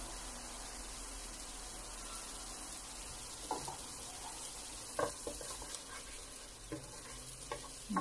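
Onions frying in a pan over high heat, a steady soft sizzle running throughout with a few sharper scrapes and clicks of stirring scattered through the second half; no voices.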